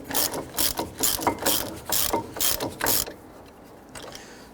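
A ratchet works loose the brake caliper bracket bolts on a 2006-2014 Honda Ridgeline front brake, a run of quick repeated clicking strokes in close bursts for about three seconds, then stopping into quiet.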